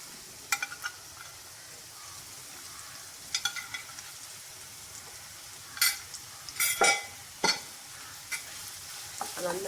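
Curry leaves, crushed ginger and garlic sauté in a pan with onions for a jackfruit chunk peralan. A soft steady sizzle runs underneath, broken by the clink and scrape of a stirring spoon.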